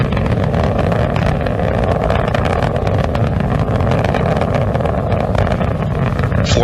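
Space Shuttle Atlantis on mission STS-112 climbs on its three liquid-fuel main engines, a loud, unbroken broadband roar that holds steady throughout with no voices.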